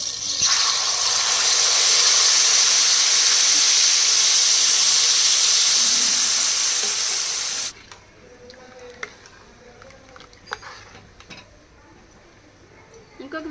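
Thick tamarind pulp dropped into hot oil for coriander pickle, erupting in a loud, dense spattering sizzle that holds for several seconds and then abruptly drops to a quiet low crackle with faint clicks.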